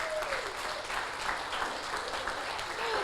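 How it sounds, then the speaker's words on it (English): At a wedding reception in a hotel, guests break into sustained, even applause after a speech, a broad, close wash of clapping from many hands with no talking over it. "I think that deserves another round of applause"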